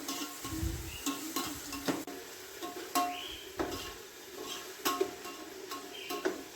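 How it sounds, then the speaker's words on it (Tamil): Onion and tomato with a handful of mint and coriander sautéing in a pan for chicken biryani, with soft sizzling under repeated spoon scrapes and clinks against the pan, close and moderate. "தக்காளி கூடவே ஒரு கைப்பிடி அளவுக்கு புதினா கொத்தமல்லி சேர்த்து நல்லா வதக்கிக்கோங்க"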